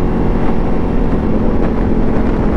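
A Ducati Diavel 1260 motorcycle engine runs loud and close, a dense, steady rumbling roar with no pauses.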